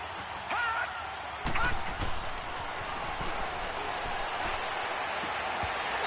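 Stadium crowd noise from a football video game on PS4, a steady roar with a brief louder swell, running continuously under a commentator's voice as a big third down approaches.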